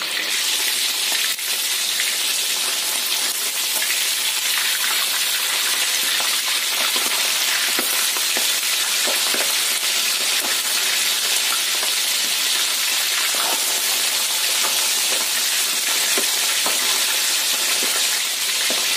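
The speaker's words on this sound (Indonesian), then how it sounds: "aku pakai segini banyak minyaknya untuk menggoreng ikan." Fish fries in plenty of hot oil, a loud, continuous sizzle and crackle that holds steady throughout with no voices.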